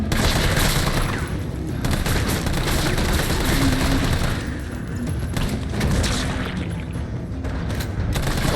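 Grenade explosions and gunfire from a Resident Evil 3 survival horde mode, a dense, continuous barrage of shots and booms throughout with no talking.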